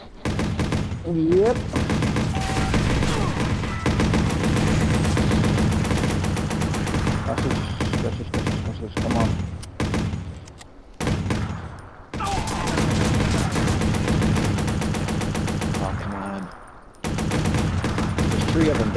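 Gunfire in the Watch Dogs video game, rapid repeated shots and bursts forming a dense, loud barrage with brief pauses, while players talk briefly over it.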